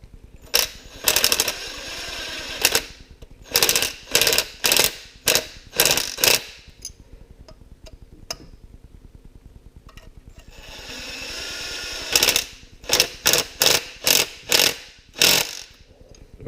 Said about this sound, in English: This is a 10 millimeter socket and a 5 millimeter Allen on the other side.